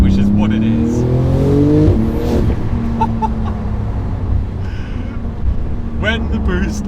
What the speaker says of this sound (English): When the boost kicks in